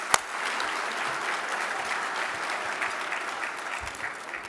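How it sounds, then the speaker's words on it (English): A seated audience at a city State of the City address gives sustained, even applause that fills the hall steadily from start to finish. "Let's give these outstanding hard workers a round of applause."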